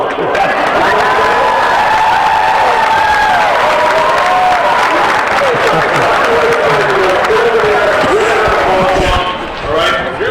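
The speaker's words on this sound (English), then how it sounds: "One more time, round of applause" At a boys' basketball game in a gym, the crowd applauds in a loud, continuous wash while an announcer keeps talking over it.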